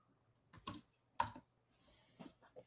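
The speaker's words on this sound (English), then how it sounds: "You're typing there." Typing on a computer keyboard picked up faintly over a microphone, a few sparse sharp clacks followed by softer scattered taps, quiet room, no speech.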